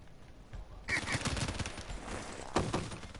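Rapid bursts of automatic gunfire from a Black Ops 3 match ring out loud and close, with dense repeated shots running almost continuously under a faint voice.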